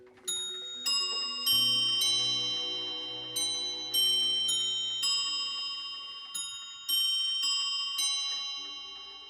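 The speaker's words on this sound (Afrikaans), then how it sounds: "Dit is 'n besondere horlosie, die Astrolabium is sy naam." An Astrolabium clock set for South Africa chimes and ticks, a series of bright ringing bell strikes repeating every second or so, each decaying slowly over a soft steady tick, close and without talk.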